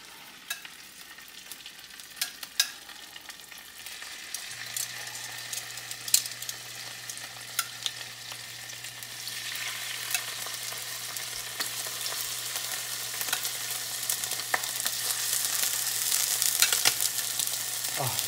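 Scallops searing in a preheated pan, a quiet crackle with scattered pops that builds into a steadier, louder sizzle toward the end, close by with a low steady hum underneath.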